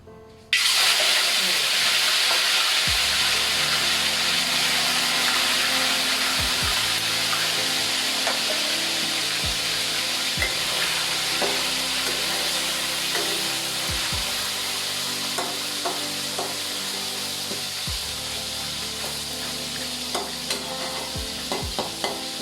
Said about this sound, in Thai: เราต้องรอให้น้ำมันมันร้อนๆนะคะ เราถึงจะลงไป ถึงจะเอาปลาลงไปนะคะ